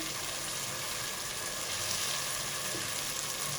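Masala frying in a pan for an Aloo ki Tahari, a continuous close hiss and crackling sizzle that stays steady and fairly loud throughout, with no talking.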